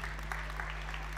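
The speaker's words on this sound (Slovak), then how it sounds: "veľký potlesk popri tom" An audience claps for a speaker being welcomed onstage at an awards event, steady applause heard from a distance and fairly faint, with no talking over it.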